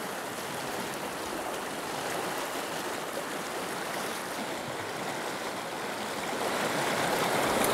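A stream's current rushes through pocket water and riffles in Idaho cutthroat country, making a steady broadband wash of flowing water close by with no voices.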